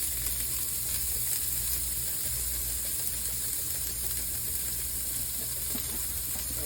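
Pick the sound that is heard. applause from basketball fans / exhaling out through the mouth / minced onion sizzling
minced onion sizzling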